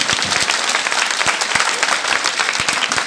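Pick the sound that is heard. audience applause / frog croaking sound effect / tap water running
audience applause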